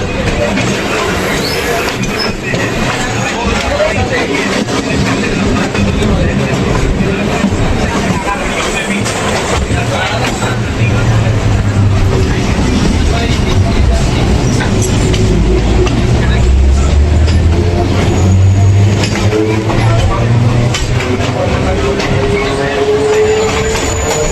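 A Sealdah–Diamond Harbour galloping local train runs at speed through a station, its loud, steady rumble and rattling wheels continuous throughout, with a low horn-like tone rising near the middle.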